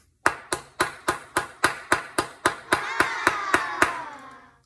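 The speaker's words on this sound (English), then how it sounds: "I might hit it with a hammer to try and knock it off" A hammer strikes a screwdriver with a potato stuck on its end, giving about thirteen sharp, close metallic knocks in a steady beat that quicken slightly toward the end, the last ones ringing out longer.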